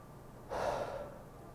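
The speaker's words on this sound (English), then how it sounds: "So I'm trying to take a deep breath." A person draws in one slow, deep breath close to the mic, a soft airy inhale that swells and then fades, heard alone against quiet room tone.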